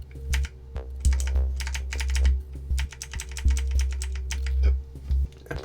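Computer keyboard keys pressed in Blender while modeling a stone well, a quick series of close, crisp clicks in irregular bursts over a low steady hum, with no talk.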